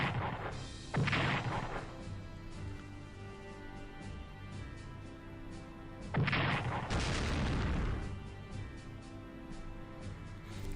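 Artillery fire in the World War II strategy game Strategic Command: World at War, with two heavy booming blasts around one and six seconds, each rolling off into a long rumbling decay over a steady low game background.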